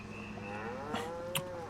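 Cattle lowing in the Farming Simulator 25 game on a dairy and beef farm: one long, wavering moo runs through most of the clip over a steady background hum, joined by two short, sharper animal calls.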